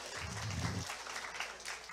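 Students at a school talk concert applaud to welcome a teacher. The clapping is a brief, faint, continuous wash heard from a distance across the room.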